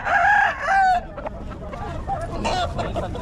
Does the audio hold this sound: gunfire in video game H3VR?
no